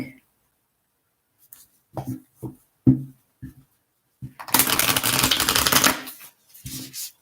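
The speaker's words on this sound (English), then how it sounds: "Just going to do a couple shuffles here." Tarot cards shuffled by hand at close range, a few soft riffles and taps followed by a longer, louder burst of rapid shuffling, then light handling; no talk over it.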